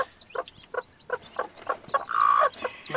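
A mother hen in a backyard coop clucks repeatedly among her newly hatched chicks, a steady run of short nearby clucks with high peeping chicks chirping over them and a brief louder burst of peeps near the end.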